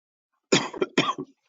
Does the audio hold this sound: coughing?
yes